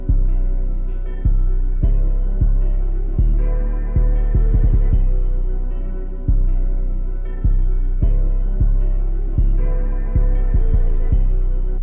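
A loud produced hip-hop beat built from an Arknights Endfield sample, with a deep booming kick and sharp clap hits, looping in a steady rhythm with a droning bass underneath.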